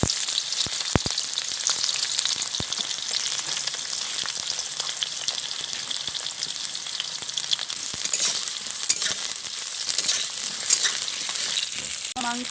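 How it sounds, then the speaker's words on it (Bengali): Malabar spinach frying in hot oil in a wok, a loud steady crackling sizzle throughout with occasional scrapes and stirring knocks, close up and with no talk. "কড়াই তেল গরম হয়ে গিয়েছে, এবার আমি পুঁই শাকটা ভালো করে ভেজে নেব।"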